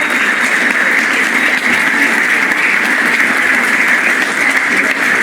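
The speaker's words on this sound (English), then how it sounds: "Another big round of applause for Thank Bonnie." Steady, loud audience applause at a live variety show's final act, dense clapping sustained throughout without pause.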